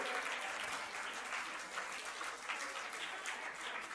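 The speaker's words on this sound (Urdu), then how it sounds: "زوردار تالیوں سے ہمارے ان معزز مہمانوں کا استقبال کریں" A school prize-distribution ceremony audience claps in a dense, sustained round of applause welcoming honored guests, loud and even throughout.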